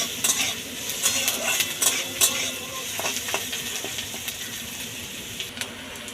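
Chopped onion stirred in a frying pan for egg devil chops, a steady soft sizzle broken by repeated scrapes and clinks of a spoon against the pan, close by and with no talking.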